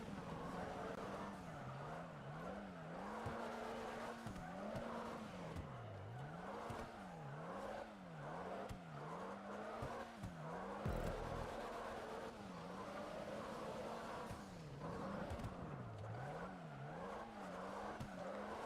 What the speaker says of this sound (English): It slid me too far because of the handbrake.